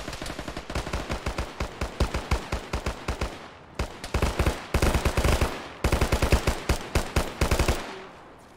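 Rapid automatic gunfire in a tactical military shooter game, sustained bursts of sharp close shots in quick rhythm, broken by short pauses, then fading out at the end.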